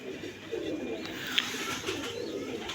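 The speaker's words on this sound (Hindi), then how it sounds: "ये बहुत अच्छा कबूतर है और ब्रीडर कबूतर है माशाल्लाह।" Pigeons at a breeder's loft make soft, faint cooing and rustling sounds alone in a quiet room, with one brief sharper chirp in the middle.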